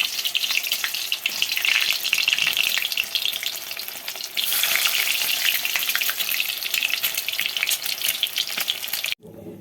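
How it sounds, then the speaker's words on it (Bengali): Pieces for an egg recipe sizzle loudly in hot oil in a pan, making a continuous crackling fry with brief stirring scrapes before it cuts off abruptly near the end. "এবার আমি একে একে সবগুলোকে তেলে ভেজে নেব"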